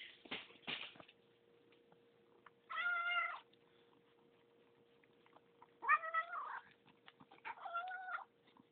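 A cat meows three times, well spaced out, over a faint steady hum in a quiet room.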